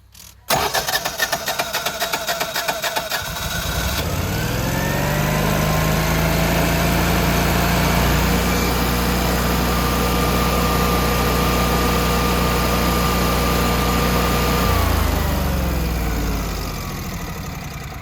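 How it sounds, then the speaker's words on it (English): A Generac 11 kW standby generator is cranked and starts, settling into a loud, steady running drone for many seconds with a shift in tone near the end. "we're going to start it up, let it run for 5 minutes to get the oil warm"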